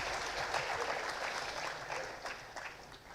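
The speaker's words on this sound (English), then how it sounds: "a big round of applause to all of you." Graduating students and guests applaud at the 12th university convocation of NLU Delhi, a broad wash of many clapping hands, steady and fairly soft as if heard from the stage.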